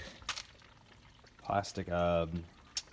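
Water from a faucet pours into a container with a brief splashy gush and a ringing, rising filling tone, preceded by faint clicks in an otherwise quiet room.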